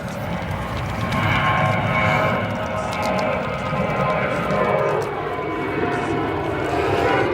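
An Airbus A319 airliner arriving at Chicago O'Hare gives a loud, sustained engine roar and whine from fairly close, steady throughout.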